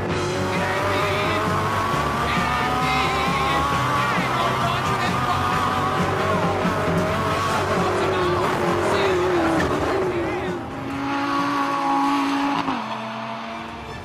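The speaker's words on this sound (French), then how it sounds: "C'est pourtant ce moment que choisit la Lamborghini pour se dégourdir les cylindres." A Lamborghini engine revs and accelerates, loud and close, with rising and falling engine tones and some tire noise, easing off briefly near the end before pulling again.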